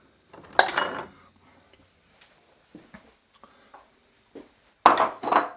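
A bowl set down among dishes in a home kitchen while a pizza is being made, giving a couple of quick clinks early on, faint small knocks, then a louder burst of crockery and cutlery clatter at the end.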